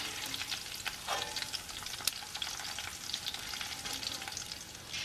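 Prawns sizzle steadily in hot oil in a pan, a dense continuous crackle with scattered sharper pops, close and alone with no talk.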